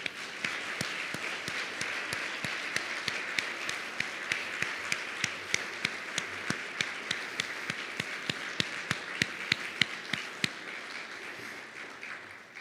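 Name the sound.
audience applauding honorees at awards ceremony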